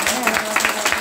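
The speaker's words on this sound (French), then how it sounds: "Nous demandons l'église pour applaudir dans le nom de Jésus" A church congregation at a Sunday service claps in a dense, continuous patter of many hands, loud and close, with voices mixed in beneath the applause.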